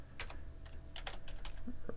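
Quick, close-up keystrokes on a computer keyboard, a short irregular burst of clicking taps while text is replaced in a file, with no voices.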